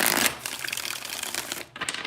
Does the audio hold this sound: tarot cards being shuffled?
yes